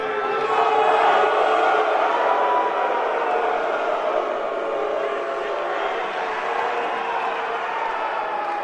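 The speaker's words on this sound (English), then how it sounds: "we're not used to hearing boos for you" Arena crowd at a UFC event jeering in a steady, dense roar that stays loud throughout with no pauses, heard alone without any clear speech on top.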